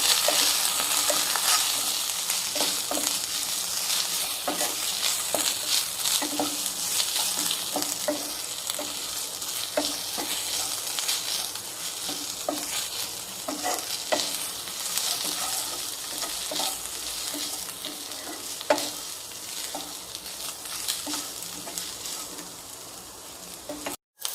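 Ginger garlic paste fries in a pan for a gongura egg liver curry, giving a steady, close sizzle with occasional scraping stirs throughout and no talking.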